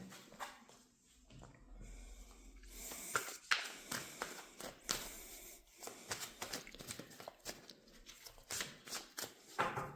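Angel love oracle cards being shuffled by hand, soft irregular riffling and flicking bursts close by, quiet at first then repeating in quick rustling strokes.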